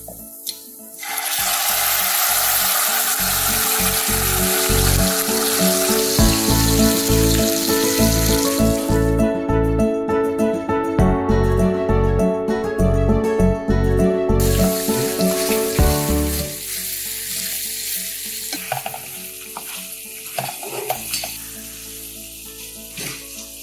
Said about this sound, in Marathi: मोहरी, कढीपत्ता आणि हा तयार मसाला.